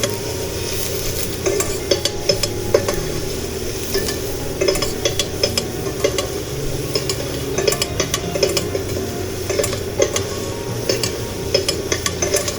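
Onion sautés with salt in a pan, a steady close sizzle joined by frequent scraping and clinking as a utensil stirs it around.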